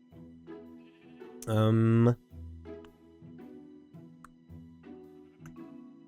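A sheep in the Minecraft video game gives one loud, close bleat lasting about half a second, with someone talking before and after it.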